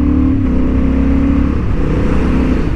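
Honda Hornet 750 motorcycle accelerating hard on a racing track, its engine note rising in steady pitch sweeps through a gear change, loud and close throughout with no talking.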